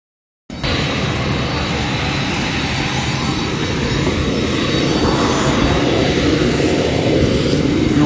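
A private jet's engine starts abruptly after a moment of silence, then holds a loud, steady roar that builds slightly, with voices faintly underneath.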